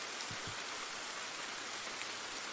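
Steady soft rainfall from the horror novel game Amadare, a constant even hiss of light rain with no voices over it.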